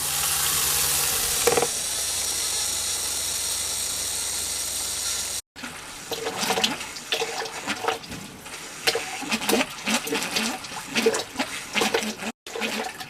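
A camper faucet sputters as the water pump pushes out the last water and air from the lines during winterizing, giving irregular spitting bursts and mechanical pump clatter after a steady initial rush of flow.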